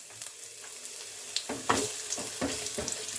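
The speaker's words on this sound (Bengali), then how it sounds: "ফোড়নটা ভাজা হয়ে গেলে এবার এর মধ্যে দিয়ে দিচ্ছি কেটে রাখা আলুগুলো।" Cut potatoes go into hot oil with a tempering in a wok, a soft sizzle building into louder scraping and stirring strokes near the end, close by and without voices.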